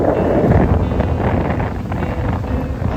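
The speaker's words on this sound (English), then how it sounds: "Wind has picked up so much." Strong wind buffets the microphone on a Lake Michigan island, a loud, constant roar of gusting air with possible lapping water beneath, continuous for the whole stretch with no voices.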